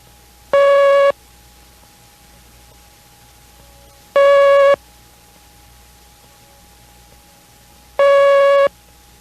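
Morse code CW letter T sent three times, each a single loud, pure, steady beep tone about half a second long, separated by roughly three-second gaps of near silence.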